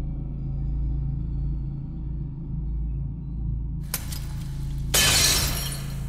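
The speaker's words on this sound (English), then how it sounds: "Shattered the golden eye." A golden eye shatters in Elden Ring: a low droning rumble gives way to a sudden bright crack and a loud glassy burst of breaking shards near the end, with no talking.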